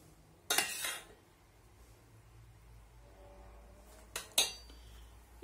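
A spoon scrapes semolina and banana baby puree into a bowl, two short, sharp clinks of utensil on dish about four seconds apart over a quiet kitchen room tone.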